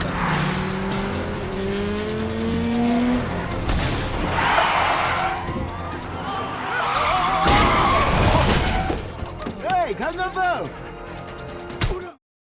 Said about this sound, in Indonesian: tiba-tiba sebuah mobil truk datang dan menabrak mobil para polisi di sana